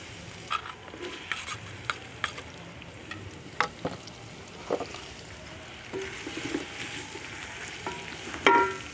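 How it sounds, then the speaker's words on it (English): Onions frying in oil in a pot give a soft, steady sizzle, close by, with occasional sharp clicks and scrapes of stirring scattered through. "on this pot over here, I'm going to add in some oil. Then we'll fry our onions."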